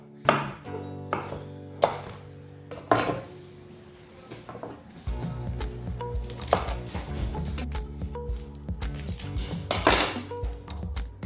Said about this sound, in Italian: tagliamo in 4 la nostra melanzana, rigiriamo e poi ricaviamo dei tocchettini piccolini